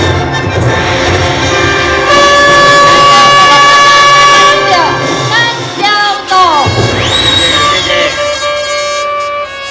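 A large crowd cheers loudly and continuously at a Tsai Ing-wen election campaign evening rally, with blaring air horns and shrill noisemakers sweeping over the roar throughout.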